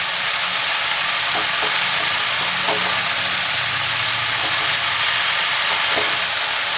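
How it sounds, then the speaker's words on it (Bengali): Shredded, washed and drained cabbage is stirred in a frying pan for a fish-head cabbage curry, giving a steady broad hiss of sizzling broken by a few soft scraping strokes of the spatula. "আমি একটু নাড়াচাড়া করে নেব।"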